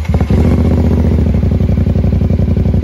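A CFMOTO 450SR-S motorcycle engine cranks and fires, settling at once into a loud, steady, rapid idle thrum that carries on alone through the clip.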